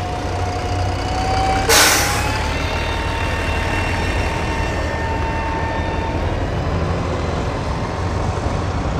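A Solaris Urbino city bus pulls away on a street in Siegen, a sharp hiss of released air bursting out before its engine drones steadily and gradually fades.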